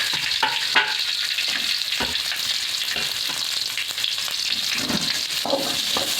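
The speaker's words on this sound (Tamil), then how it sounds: "பெரிய வெங்காயம் பொன்னிறமாக வர வரையும் வறுத்துக்கலாம்" Big onions frying in oil with mustard seeds, urad dal and curry leaves for a meal maker curry, a loud continuous sizzle with frequent scraping spoon strokes throughout, no talking.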